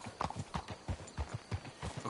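Horse hooves clip-clop in a steady walking rhythm in the video game Red Dead Redemption 2, about eight quiet, evenly spaced footfalls, with no talking.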